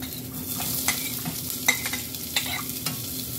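Onion fries in oil with bay leaf, cinnamon and cardamom, giving a steady close sizzle broken by scraping stirs of a spoon in the pan. No one speaks.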